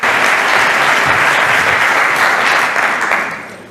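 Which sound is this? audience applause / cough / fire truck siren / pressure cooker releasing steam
audience applause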